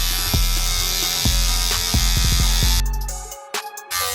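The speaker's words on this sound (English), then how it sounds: "Turn on the trimmer" Electric hair trimmer used with a Cut Buddy guide while cutting 360 waves, giving a steady close buzz with short clicks and bumps as it moves across the head, cutting off abruptly near the end.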